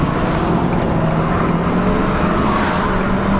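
A 2019 Ford F450 dually Lariat with a 6.7L Power Stroke diesel accelerates on an open highway, giving a steady, loud, continuous engine and road roar with no pauses.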